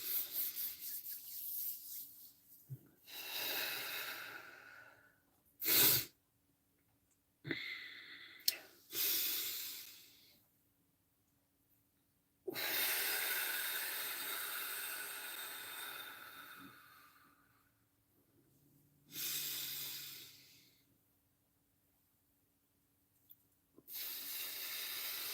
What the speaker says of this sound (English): Let's do some deep cleansing breaths.